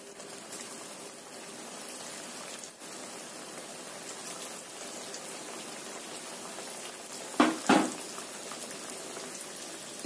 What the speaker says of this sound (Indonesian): Setelah panas, kita goreng satu persatu.